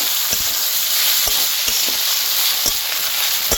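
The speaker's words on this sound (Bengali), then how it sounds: "ভালো করে মশলাটাকে একটু ভেজে নেব" Turmeric, chili powder, salt and cumin powder frying in a pan for a mung dal dish, a loud, steady, close hiss of sizzling oil with a few soft stirring taps underneath.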